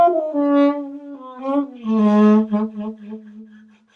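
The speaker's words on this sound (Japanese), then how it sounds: "サブトーンってこんな音です" A saxophone mouthpiece played alone gives a breathy subtone: two or three wavering, close, moderately loud tones that bend in pitch, with no talking.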